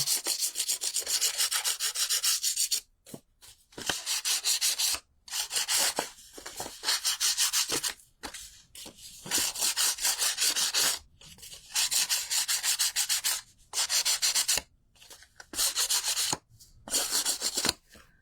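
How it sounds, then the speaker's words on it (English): A paper-crafting emery board rubs along the edges of a Christmas greeting card to distress them, giving rough, raspy strokes in repeated bursts separated by short pauses, close and fairly loud, with no talking. "Just rub it a bit. And it takes off the edges."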